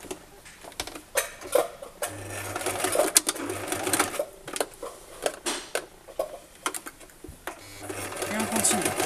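A sewing machine stitches fabric for a washable wipes basket, starting with a backstitch, its rapid mechanical clatter running in short bursts and stops, with someone talking over it throughout.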